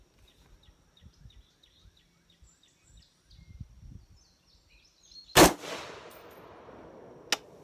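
Rifle shot fired at a shooting range target: one loud, sharp blast with a long rolling echo, then a smaller crack about two seconds later, after a quiet stretch of faint low rumbles and bird chirps.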